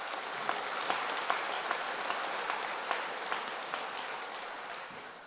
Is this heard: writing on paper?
no